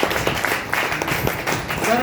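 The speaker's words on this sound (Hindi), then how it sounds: "तो एक बार जोरदार तालियां चाहूंगा सर के लिए" Applause from an audience at a royalty achievers' event, dense continuous clapping that is loud and steady for the whole moment, with crowd noise mixed in throughout.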